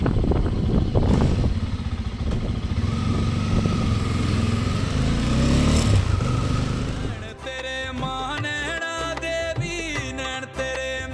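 Bajaj Pulsar N250 motorcycle riding on a road in Himachal Pradesh, a loud, steady engine drone with wind rush that gives way after several seconds to overlaid music.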